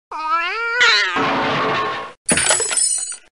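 Cartoon cat meowing in the Reader Rabbit Reading 1 matchup game, a drawn-out rising meow followed by a crash-like sound effect and a brighter closing jingle, all loud and close with no talk.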